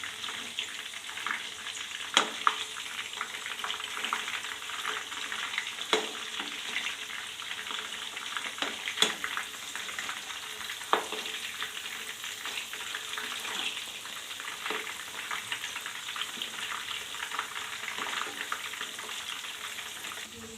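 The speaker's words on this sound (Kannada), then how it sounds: "ಇದು ಸ್ಲೋ ಫ್ಲೇಮಲ್ಲಿ ಕಬಾಬ್ ಬೇಯಬೇಕು." Spicy chicken kebabs fry on a slow flame in a pan, giving a steady close sizzle with scattered crackles and small pops throughout, no voices over it.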